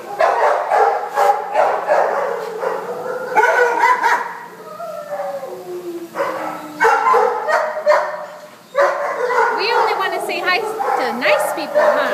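Dogs barking and yipping in a shelter kennel, loud and close, a dense overlapping chorus of barks with whines throughout, people talking faintly among them.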